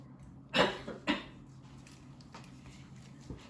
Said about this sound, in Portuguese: Perdoem a tosse, que eu tô me curando de uma sinusite